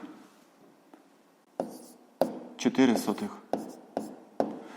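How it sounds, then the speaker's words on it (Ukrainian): A pen scratches out an answer on paper during a fifth-grade math lesson, with short, close strokes in uneven bursts and a voice briefly audible. "записуємо відповідь, пишемо відповідь"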